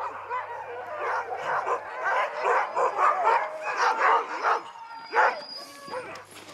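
A pack of Siberian husky sled dogs waiting for dinner barks, yips and whines in an eager chorus that overlaps continuously, close by and fairly loud.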